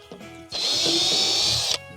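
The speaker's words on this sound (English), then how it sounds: "drill a hole" A power drill bores a hole while installing a 45-litre water tank under a Kombi T2 camper, whining loudly and steadily for over a second after a few brief clicks.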